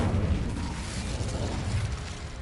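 An Incendio fire spell is cast in Hogwarts Legacy, a dense, low, roaring burst of flame that keeps rumbling evenly for a couple of seconds.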